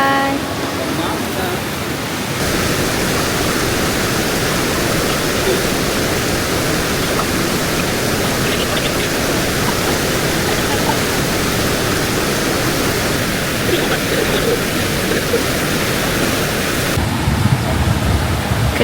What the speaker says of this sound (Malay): Kedengaran bunyi macam nak hujan.